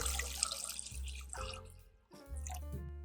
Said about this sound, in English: Then pour water over the eggs.